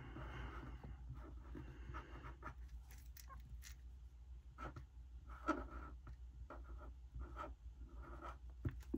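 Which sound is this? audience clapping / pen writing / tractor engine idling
pen writing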